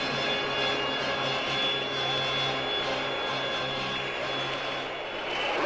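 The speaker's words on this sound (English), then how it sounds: "As the incredible might of Saturn V lifted Apollo 11 clear of the tower" Saturn V rocket engines thundering at the Apollo 11 liftoff, a continuous loud broadband roar with a steady rumbling texture, sustained without break and no speech over it.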